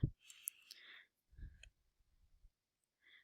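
Calculator keys pressed in a short burst of light plastic clicks, followed by a pause and a few fainter taps, close and quiet.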